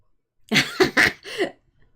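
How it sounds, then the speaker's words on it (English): A man coughs several times in quick succession, a short burst of three or four harsh, moderately loud coughs with no talking, heard during a painting livestream. "I heard him cough"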